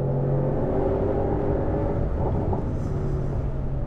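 A Mercedes-AMG GT63 Pro engine drones steadily in race mode on a racetrack, a low continuous rumble heard from inside the cabin without a break.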